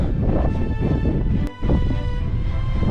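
Strong wind sweeps across an island reached by paddleboard, a loud, steady roar buffeting the microphone, dipping briefly midway before surging back.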